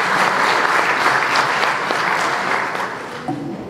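A crowd at a political party's federal council meeting in France applauds shopkeepers, a loud, dense, sustained burst of many hands clapping that fades slightly toward the end, with no speech over it.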